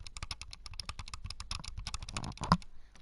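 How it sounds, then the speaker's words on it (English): Rapid, evenly spaced clicks from a computer mouse during a Minecraft fight, a quick dry ticking series close up and fairly quiet, with a small thump near the end. "So here I'm clicking incredibly fast."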